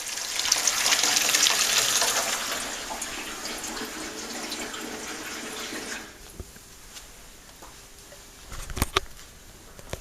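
A Brandt washing machine's water inlet fills loudly with a steady rushing hiss for about six seconds, then cuts off, leaving a quiet hum and a couple of short clunks.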